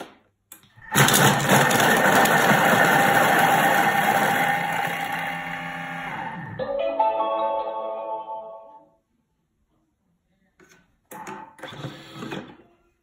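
Thermomix blending moussaka ingredients with onions at speed 5, a loud close motor whir running about five seconds, winding down with rattling, then silence and a brief second burst of machine noise.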